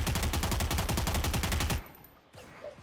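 A rapid spray of gunfire in Valorant, about a dozen evenly spaced loud shots in a tight rhythm, then a sudden stop into near silence with a faint click.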